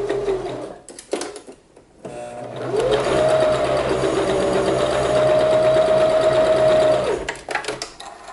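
Sewing machine running a long-length basting stitch while hemming a special occasion garment: a few short starts, then a steady fast whirring run of about four seconds, close and loud, ending in brief stops.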